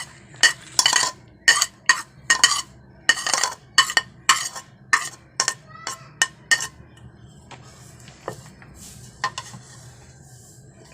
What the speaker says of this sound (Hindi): उसके बाद ये प्याज मिला देंगे।